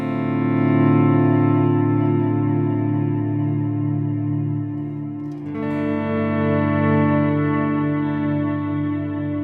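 Swelling electric guitar chords fed through the 2290 modulated delay of a TC Electronic Flashback Triple Delay pedal, giving a smooth, sustained ambient wash with a new chord entering about halfway through and lingering echoes under it.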